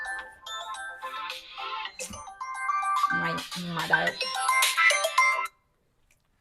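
A phone ringtone plays a repeating melodic tune for about five seconds, fairly loud and close, then cuts off abruptly; someone speaks briefly over it.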